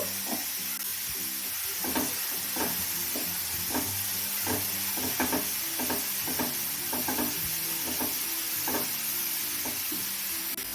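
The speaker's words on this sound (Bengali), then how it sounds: "এবার ফুলগুলোও একইভাবে হালকা করে ভেজে নেব" Drumstick (sajne) flowers fry lightly in a pan with a soft, constant sizzle broken by frequent small crackles and stirring taps, quiet music playing underneath.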